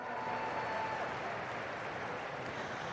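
Audience applause at a school district's school-year kickoff event, a steady wash of clapping from a large crowd filling the room at moderate level, no voices on top.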